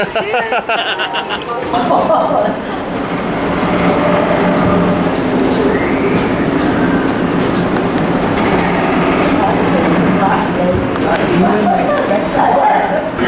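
A train rumbles past nearby with a steady heavy roar and some rattling, while people talk over it.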